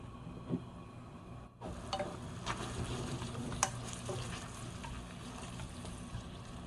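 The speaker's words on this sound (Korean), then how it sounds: "이렇게 해서 한 중불 정도에서 볶아 주시면 돼요" Seasoned vegetables (namul) stir-fried in a pan over medium heat, a low, steady sizzle that starts after a brief pause, with scattered light clinks and scrapes of a utensil.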